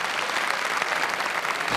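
Audience applause for two women introduced on stage at a French comedy show, a dense, steady wash of clapping hands, loud and continuous throughout.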